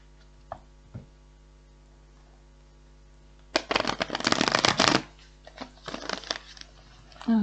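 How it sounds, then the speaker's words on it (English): A deck of tarot cards is shuffled by hand in two bursts: a dense, crisp riffle lasting over a second, then a shorter, lighter one, both close, with a few soft taps before them. "One more shuffle."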